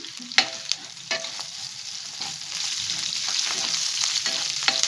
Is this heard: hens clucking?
no